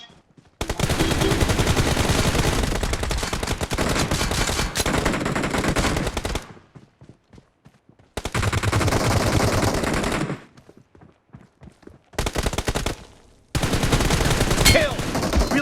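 Sustained automatic bursts from AKM and Groza rifles in BGMI ring out in long loud strings separated by brief pauses, with occasional faint clicks between volleys.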